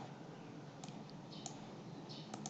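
A computer mouse clicks a few times on a Windows PC while the registry editor is being used: soft, sparse, close clicks over a steady background hiss.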